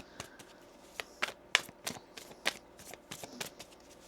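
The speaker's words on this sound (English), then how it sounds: "One more shuffle here." Tarot cards being shuffled close by, a run of quick riffling bursts and soft slaps at an uneven rhythm, with no talking.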